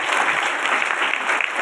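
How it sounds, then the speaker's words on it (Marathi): An audience at a Marathi kirtan bursts into loud, dense clapping that holds steady for the whole moment, with no voices rising above the applause. "एकदा टाळी वाजवा."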